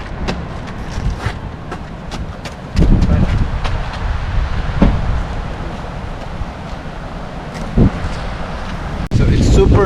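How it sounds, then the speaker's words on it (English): Strong wind buffets a microphone outdoors at Yosemite during a snowstorm, a loud continuous rumble with sudden gusts, while a person talks through it. "Super windy here. I don't know if you can hear me. It's super windy."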